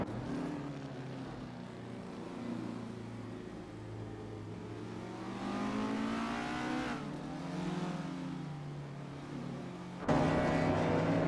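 Simulated race cars in an AI racing video game, engines droning steadily in a close mix with rising and falling revs as the cars jostle for position, growing louder near the end.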